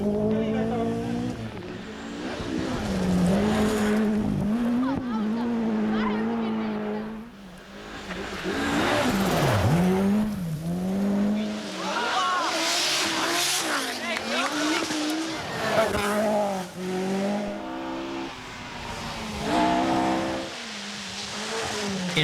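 Peugeot 205 T16 Group B rally car racing in Finland, engine revving hard with rising and falling pitch as it accelerates and shifts, tires squealing, loud and close, with a voice talking over it.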